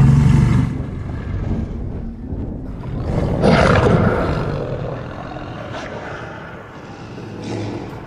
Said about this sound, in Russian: Лиам Нисон бьется с волками.